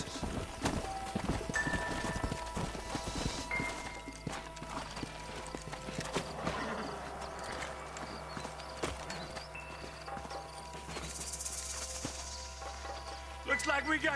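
Horses clip-clopping in the Red Dead Redemption video game, hooves thudding across a busy mix of game sound effects and music, with voices talking over it.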